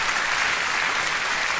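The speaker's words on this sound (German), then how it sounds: "Das ist euer Applaus." A studio audience at a German television game show applauds, a dense, even wash of clapping that stays constant throughout with no break.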